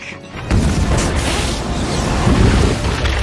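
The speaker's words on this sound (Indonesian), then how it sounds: "seluruh bom waktu yang dipasang Rodney pun akhirnya meledak" Time bombs going off in a castle factory in a film, a sudden heavy boom followed by a sustained roaring rumble of explosions and crashing debris.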